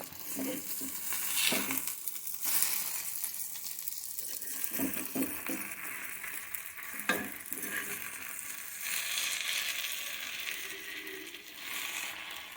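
An egg with fenugreek leaves sizzles steadily in a pan, with a soft constant fry hiss broken by a few clattering scrapes and stirring knocks from a spatula, no talking.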